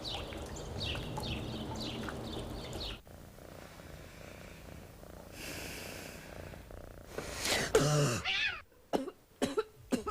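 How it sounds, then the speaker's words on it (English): A few close, raspy coughs and throat noises, followed by sharper bursts and rustling toward the end, with a quiet hum between them. "Cough waking you up in the middle of the night?"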